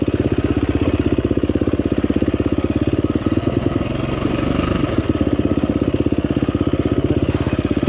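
A 2024 KTM 350XCF Factory Edition dirt bike engine runs at a steady, loud idle with a rapid chugging pulse and light mechanical clatter, briefly dipping in the middle before settling back to the same beat.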